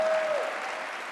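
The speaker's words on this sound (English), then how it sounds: "Let's give her a big round of applause, Dr. Sullivan." Applause from an audience at a youth mental health summit greets a state mental health commissioner, a steady wash of clapping held at even strength through a brief burst.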